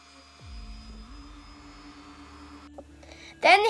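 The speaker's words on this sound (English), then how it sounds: "These were then finished off with the rotary tool to give a realistic look." A handheld rotary tool spins up and whines steadily as it finishes a cosplay Viking shield, a close, moderately quiet motor drone with a rising pitch early on, ending in a brief louder burst.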